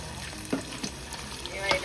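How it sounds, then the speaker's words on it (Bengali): Cauliflower florets fry in a hot pan with a soft, steady sizzle, broken by a few sharp clinks and scrapes of stirring. "এবারে ফুলকপিগুলো ভেজে নেব।"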